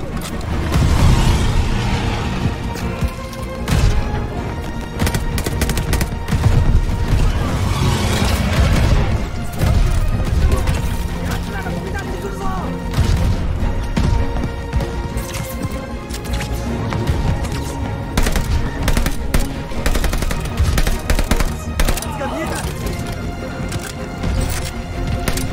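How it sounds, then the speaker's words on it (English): Japanese tanks rumbling and gunfire crackling on a battlefield in Call of Duty Vanguard, a steady heavy roar scattered with sharp cracks and booms throughout. "Japanese tanks."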